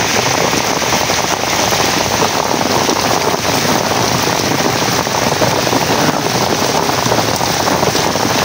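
Heavy rain pours steadily over a rural field, a dense, loud, continuous hiss with no pauses and no voices.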